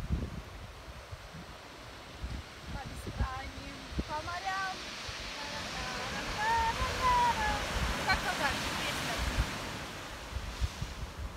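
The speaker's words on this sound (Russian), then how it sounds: "Океан шумит." Broad, steady Pacific surf roar at Point Reyes, California, with wind buffeting the microphone, and voices talking faintly over it in the middle.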